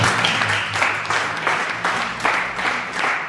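A church congregation applauds and cheers in praise of the Lord, steady clapping with rhythmic surges, filling the room without speech.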